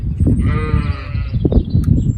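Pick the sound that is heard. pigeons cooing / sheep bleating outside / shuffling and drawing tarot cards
sheep bleating outside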